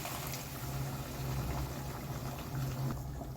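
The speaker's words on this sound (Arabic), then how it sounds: "ميه مغليه عشان الفراخ تستوي" Water boils with chicken in a cooking pot, a soft, steady bubbling and low simmering rumble heard up close without any talk.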